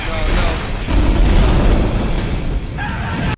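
A film explosion in the middle of a group of troops, a loud deep boom with a rumbling burst that fills the moment, under a voice talking over it.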